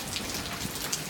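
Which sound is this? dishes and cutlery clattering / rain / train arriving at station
rain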